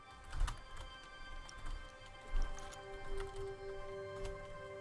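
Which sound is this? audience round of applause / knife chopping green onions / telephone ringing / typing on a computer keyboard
typing on a computer keyboard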